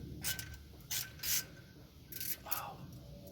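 Short bursts of ratchet-wrench clicking come in four or five quick spurts on a small block Chevy water pump job, close and fairly quiet, with soft rubbing in the pauses.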